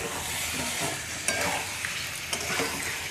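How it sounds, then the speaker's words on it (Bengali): Marinated chicken meat dropped into fried spice paste in a pan for chicken curry, giving a loud, dense, hissing sizzle throughout with a few sharper spatters and stirring scrapes, close up and without speech. "এখন ম্যারিনেট করা মাংসটা দিয়ে দিলাম"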